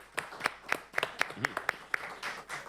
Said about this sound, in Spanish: ¿Quién aplaude?